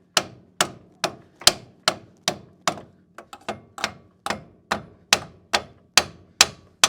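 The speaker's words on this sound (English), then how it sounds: "it's not coming off, so I'm gonna take my sledgehammer and just give it a light tap" Steady series of about a dozen sharp metallic blows from a sledgehammer lightly tapping a wheel hub off a car's strut during a wheel bearing and hub replacement, evenly spaced and close, with a brief cluster of softer knocks midway.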